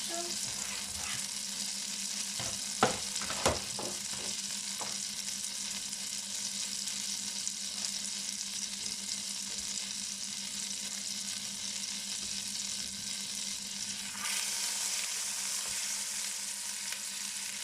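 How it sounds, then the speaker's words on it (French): Pieces of pork browning in a pan for a pork and sweet cider sauté: a steady, even sizzle throughout, with a few sharp clacks of stirring early on and a brief surge of sizzling later. "Pour faire revenir ma viande"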